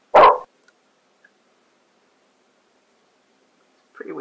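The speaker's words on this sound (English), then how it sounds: "Oh yeah, dog was pretty frightening." A single sharp dog bark from the video game Granny's Garden, loud and abrupt at the start, followed by near silence and then a brief bit of voice at the end.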